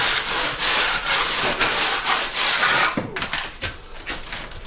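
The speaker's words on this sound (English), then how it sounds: "just gonna get the float here and float it" A plastering float rubs over a bonding coat on a wall in rhythmic back-and-forth rasping strokes, close and fairly loud, turning to shorter, lighter scrapes near the end, with no talking.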